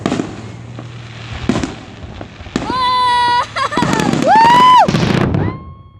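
Independence Day grand finale fireworks in Downingtown, with rapid bursts and booming explosions crackling in quick succession, interrupted by loud whistling rockets, while spectators talk and cheer nearby.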